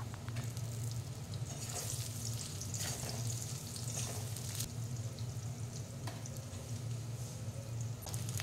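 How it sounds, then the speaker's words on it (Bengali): Cut potato pieces frying in oil in a pan, a low, continuous, even sizzle with soft stirring scrapes throughout, with no voices. "এবার আমি কেটে রাখা আলুগুলি ভাজতে দিয়ে দেব। একটু লাল লাল করে ভেজে নিতে হবে আলুগুলি।"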